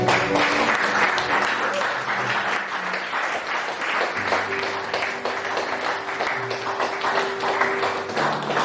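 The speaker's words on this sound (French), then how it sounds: "J'ai envie qu'on applaudisse le Seigneur." A church congregation applauds in steady, dense clapping that fills the whole stretch, loud and close, with faint voices and a sustained tone underneath.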